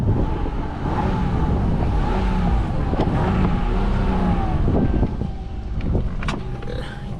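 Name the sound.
car engine running at auction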